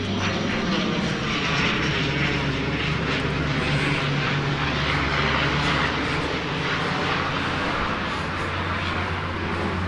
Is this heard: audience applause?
no